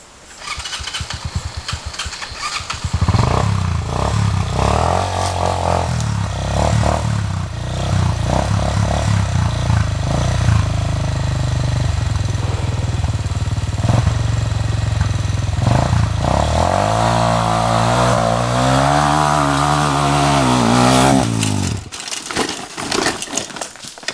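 A trail motorcycle with a slack chain fires up and is held revving, the engine roaring loud and close for about twenty seconds with rising and falling throttle before cutting off.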